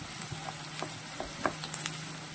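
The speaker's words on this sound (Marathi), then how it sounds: "अशा प्रकारे तांबूस होईपर्यंत आपल्याला कांदा परतून घ्यायचा आहे." Chopped onions sautéing in a pan for a sandage curry, giving a soft, steady sizzle with scattered crackles and pops, close and quiet, with no voices.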